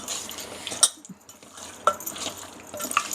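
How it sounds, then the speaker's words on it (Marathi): Metal utensils clink and scrape against a pan as chicken is stirred, with a few sharp knocks spread between quieter rustling. "एकसारखं हलवून घेतो."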